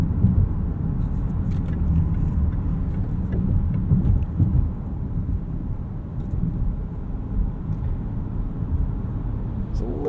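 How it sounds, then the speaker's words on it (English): Low-profile 19-inch tires on a 2018 Jaguar E-Pace SE P250 rolling over bumps, a continuous loud low road rumble with thuds heard from inside the cabin. "Little bit of noise over bumps. I assume that's from these really low profile tires."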